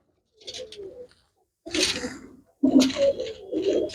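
Pigeons kept as a hobby coo in a few short separate bursts, close and clear, with quiet gaps between calls.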